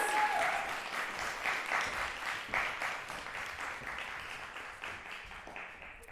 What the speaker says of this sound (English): please give our dancers and musicians a round of applause for our first demos